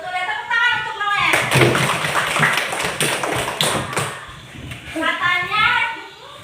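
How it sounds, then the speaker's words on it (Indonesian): Children clapping together in a classroom during a lesson, a burst of brisk, dense claps framed by a child's and a teacher's voices before and after. "tepuk tangan untuk Noel."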